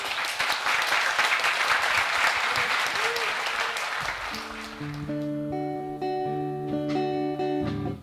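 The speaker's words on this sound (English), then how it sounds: "You can clap. Slow clap." Congregation applauding at a pastoral inauguration service: dense steady clapping fills the first half, then thins as piano and singing voices begin a hymn over the fading applause.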